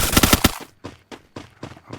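Gunfire in the Free Fire video game, a fast burst of loud shots followed by spaced, lighter single shots or short bursts from behind.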